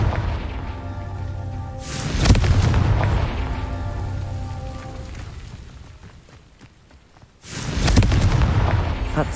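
A Confringo spell blast in the Hogwarts Legacy video game: a loud, deep booming explosion that rumbles and fades over several seconds, followed by a second heavy blast.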